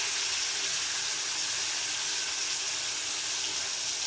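Bitter gourd slices frying in hot mustard oil, a steady, close, hissing sizzle that holds evenly without pause or talk.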